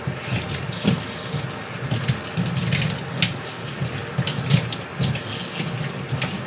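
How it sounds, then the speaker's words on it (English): Water runs steadily from a tap while a baby is rinsed at bath time, a constant close splashing flow with small shifts as the stream hits skin and water. "now we're going to begin to rinse."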